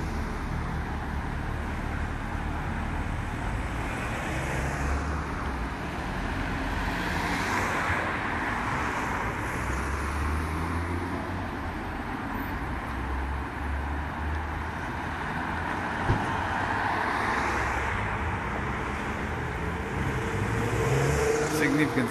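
Road traffic rumbles past on a city high street where trams run, a continuous wash of car engines and tyre noise with vehicles swelling and fading as they pass close by.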